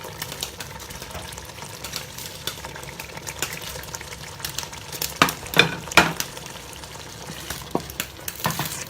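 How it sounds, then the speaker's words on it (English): Frozen vegetables and red and green chili go into a simmering corned beef stew, giving a steady low sizzle and bubbling with a few louder clattering stirs and knocks near the middle and end, no talking. "I'm now going to be adding the frozen veggie and the red and green chili"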